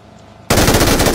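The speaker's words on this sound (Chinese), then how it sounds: "准备开火。" An MG3 machine gun in the PUBG video game opens up after a brief quiet moment, firing a loud, continuous rapid burst that runs to the end.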